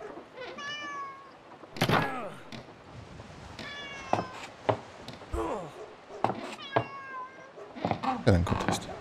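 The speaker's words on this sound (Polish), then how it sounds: "Jeden kot jest." A cat meowing in the video game Rosemary's Fate, several clear meows in separate calls over an ambient game background with thuds.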